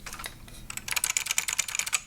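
Fast typing on a Matias Mini Tactile Pro keyboard with clicky Matias switches, a quick run of sharp, high-pitched clicks close to the microphone, slowing slightly at the start and then a dense burst, with no talking.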